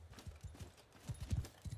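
Horse hooves clip-clop at a brisk, uneven trot in the video game Mount & Blade II: Bannerlord, a run of soft, low thuds fairly close by with no voices.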